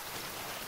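Steady rain from the survival video game Raft, a dense, even hiss of falling drops that holds unchanged for under a second, with no voices over it.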